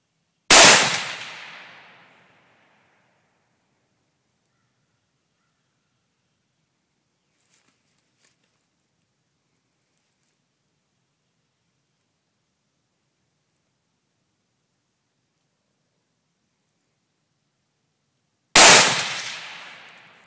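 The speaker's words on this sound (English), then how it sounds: "shooting at a target down in the bushes" Two rifle shots at a Tannerite target in the bushes outdoors, each a loud sharp crack with a decaying echo, far apart with silence in between.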